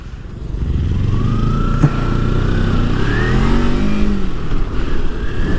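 A Kawasaki Ninja 300 motorcycle engine starts and runs smoothly, holding a steady, fairly loud hum with a few rising rev sweeps partway through. No voices are heard.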